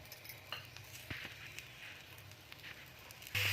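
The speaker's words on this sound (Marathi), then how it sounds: "आता आपण तुरीचे दाणे भाजून घेणार आहोत" Fresh pigeon pea (tur) beans dry-roast in a pan, giving faint crackles, light patter and soft clinks of stirring, ending with a louder scrape near the close.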